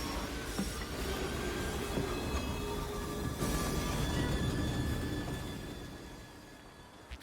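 A train rolls along in a video game, a steady rumbling roar with faint wheel squeal and clatter that holds for several seconds before fading away.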